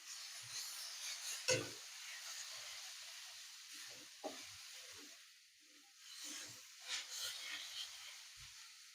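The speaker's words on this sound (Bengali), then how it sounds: "আমি ফুলকপির যে জল আছে জলটা শুকিয়ে নেব।" Cauliflower filling for stuffed paratha cooks in a pan to dry off its water, giving a soft, steady sizzle and hiss with occasional stirring clinks and scrapes, fairly quiet and close, with no talk over it.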